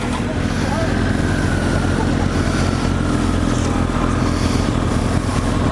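A Kawasaki ZX-10R sport motorcycle cruises along a road in Nova Scotia, giving a steady, continuous engine drone with wind rush. The sound stays even throughout and holds no sharp changes.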